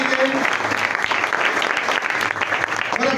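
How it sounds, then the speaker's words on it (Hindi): A church congregation at a Christmas service applauds loudly and continuously, a dense wash of clapping from a large crowd filling the room, with speech faintly under it. "जोरदार तालियां बजाएंगे अच्छी वर्शिप के लिए"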